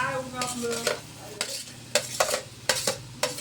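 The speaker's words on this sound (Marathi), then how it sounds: "एक ग्लास फ्रेश दही टाकूया परतून घेतलेली जी भेंडी आहे ती बी घालायची" A spoon stirs sautéed village okra into fresh curd in a hot pan, giving repeated scraping strokes at an uneven rhythm over a low sizzle.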